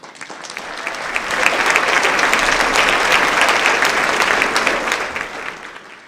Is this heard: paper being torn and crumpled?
no